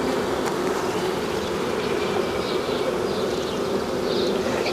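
Honey bees buzzing loudly and steadily from close range as a hive is opened for inspection, a dense continuous drone with no talking.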